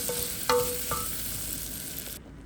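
Vermicelli noodles frying in oil for Arabic-style rice while a spoon stirs them, a steady sizzle with a few sharp metallic scrapes and clinks of the spoon against the pan.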